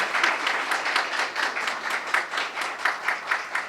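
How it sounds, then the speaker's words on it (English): An audience at a course closing ceremony applauds the best performer, a lively run of clapping with rhythmic surges, steady throughout the short stretch. "Yes, please, huge round of applause."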